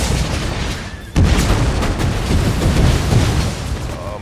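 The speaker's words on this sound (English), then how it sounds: "grenades go a popping" Grenades going off in an Empire: Total War multiplayer battle, a sudden deep boom followed by continuous rumbling explosions and crackling battle noise, loud and dense.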